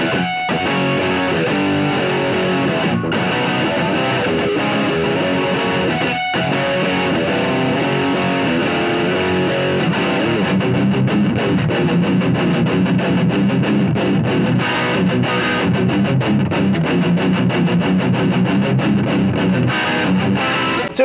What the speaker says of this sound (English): I'm gonna turn on the distortion now because I feel like this is a guitar that probably should be distorted.